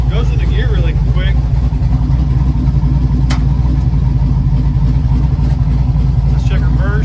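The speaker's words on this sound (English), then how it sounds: "we're gonna check the 2-step on this" A turbocharged Chevy engine holds steady on two-step launch control set at 3200 rpm, giving a loud, continuous low rumble throughout.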